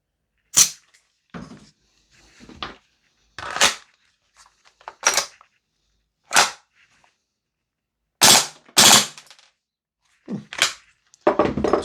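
A VFC G36C gas blowback airsoft rifle firing single rounds, a dozen or so sharp, close cracks spaced irregularly with brief mechanical clatter after some shots, the later ones in quicker pairs.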